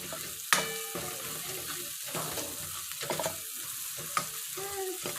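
Mutton masala is stirred into whole masoor lentils frying in oil, with spoon scrapes and clacks against the pot over a soft, uneven sizzle.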